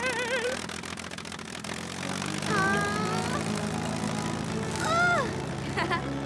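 A small cartoon airplane's engine drones steadily throughout, with whistly musical tones and effects layered over it and no clear talk.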